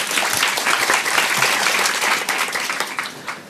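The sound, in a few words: audience applause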